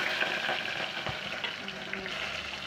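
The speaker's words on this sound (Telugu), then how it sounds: "కూర వండుకుంటున్నాం." Mutton curry fries in a pan with a steady, close sizzle and faint stirring scrapes, without talking.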